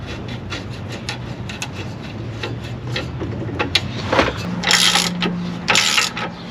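A ratchet tightens a bolt on a new adjustable control arm with a spherical bearing on a Dodge Magnum, giving rapid repeated clicking close by that grows louder and busier near the end.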